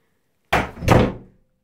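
A door slams shut to yank out a child's loose tooth tied to it with string: one loud, sharp thud with a fast second impact that rings and fades in under a second, with no talk.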